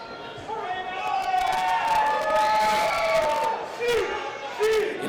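Lucha libre wrestling crowd at a UCW event cheering and shouting for the luchadors, a loud, sustained roar with rising whoops and yells that dips briefly near the end.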